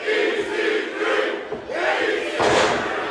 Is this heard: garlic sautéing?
no